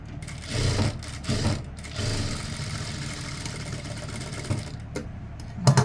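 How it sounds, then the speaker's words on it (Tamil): Stitches run in short bursts on a sewing machine joining the sleeve of a lined chudithar, a few quick starts and stops followed by a longer steady run. "2 தையல் போட்டுக்கோங்க."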